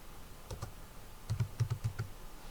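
Computer keyboard keys tapped in two short bursts, a pair of clicks and then a quicker run of five or six, crisp and close with no talking.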